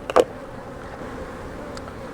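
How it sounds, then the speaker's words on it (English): Honey bees swarm over the outside wall of a hive during a split and swarm-cell transplant, with a soft, steady buzz and one brief louder buzz as a bee passes close early on. "Lots of bees on this outside wall here."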